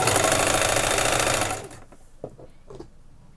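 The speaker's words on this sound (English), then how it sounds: "You're going to stitch the sides ½ inch all the way down to the end of the blouse, starting with the sleeve" A sewing machine stitches the side seams of a batwing blouse, running fast and steady for about a second and a half, then stopping, followed by a few soft clicks and handling sounds.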